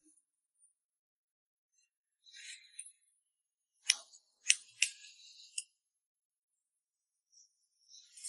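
Scissors snip short hair during a high-angle layered cut, giving a few brief, crisp metallic snips in quick succession, close by and fairly quiet, with near silence between the bursts.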